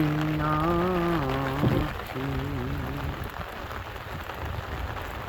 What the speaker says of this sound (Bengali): আরো ঝুম বৃষ্টি চলছে